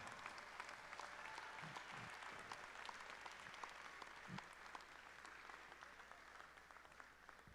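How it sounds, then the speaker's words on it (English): Faint, distant applause from a crowd at a boys basketball senior night in a gym, steady and diffuse with scattered sharper claps throughout. "Let's give him a big round of applause while we wait for the picture."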